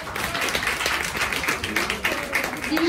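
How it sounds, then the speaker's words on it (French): An audience applauds a group of children on a show, with steady, dense clapping from many hands and a voice speaking over it. "Je crois que vous pouvez les applaudir"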